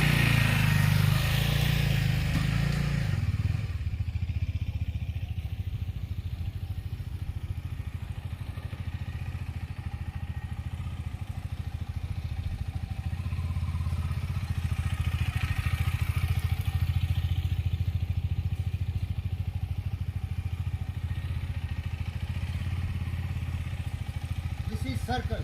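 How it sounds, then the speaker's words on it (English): An adventure motorcycle is started and ridden in a figure-eight pattern for a riding-skills drill. A loud burst at the start gives way to a steady, moderately distant engine drone that rises and falls gently. "Start the bike. Keep it vertical. Keep some focus. Use your clutch. Give some power and go."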